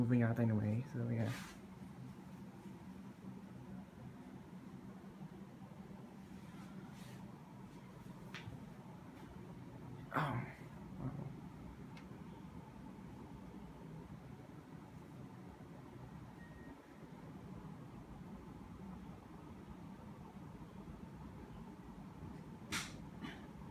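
A Carrier split-type air conditioner runs in fan mode, giving a steady, low whooshing hum throughout, with a louder thump at the start and a few brief knocks.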